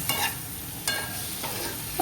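Goat brain frying in a pan is stirred gently, with a steady close sizzle of hot oil and a few soft scraping strokes of the spoon, no voices.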